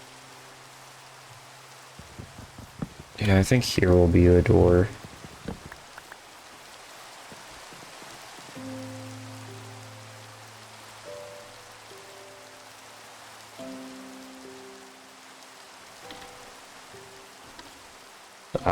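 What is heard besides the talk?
rain in the video game Minecraft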